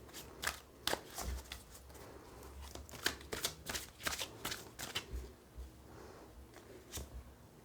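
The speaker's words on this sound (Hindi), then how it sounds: "चलिए, मैं थोड़े से कार्ड इसके और लूँगी।" Tarot cards being shuffled and drawn by hand, a run of crisp riffling flicks and soft slaps in quick irregular bursts, close and fairly quiet with no talking.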